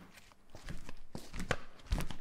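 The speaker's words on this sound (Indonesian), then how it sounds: "karena cuma butuh suara kaki ya udah rekam aja suara jalan" Soft footsteps recorded on a Zoom H1 audio recorder tap along at an irregular walking pace, close but quiet, with no voices.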